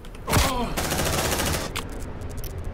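Rapid gunfire at a xenomorph in Aliens: Dark Descent, a dense, loud burst of shots lasting about a second and a half before cutting off, with a brief voice near the start.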